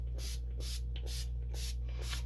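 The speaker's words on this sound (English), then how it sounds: "I'm just going to spray my watercolor paper here." Water misted from a spray bottle onto watercolor paper in a series of quick, evenly spaced pumps, each a soft hissing burst with short pauses between, close and clear.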